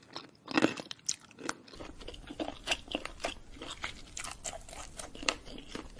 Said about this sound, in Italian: Disgustosi suoni di cibo che viene masticato e ingoiato.